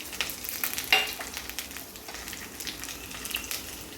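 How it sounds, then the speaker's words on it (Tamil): Dried red chillies, chana dal, urad dal and mustard seeds crackle in hot oil in a pan, a steady close sizzle with a sharp pop near the start and no speech. "வத்தல் சேர்த்துக்கலாம்."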